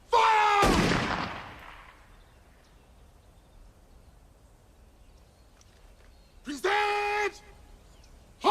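Rifle volleys from a firing party at a formal ceremony, with a loud sharp crack at the start, a long fading echo, then a second ringing blast some seconds later.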